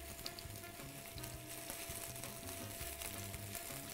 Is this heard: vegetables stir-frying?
yes